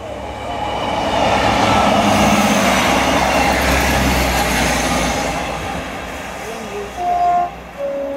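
A train rumbles past nearby, swelling to a loud roar then easing off, followed by a couple of short tonal squeals or toots near the end.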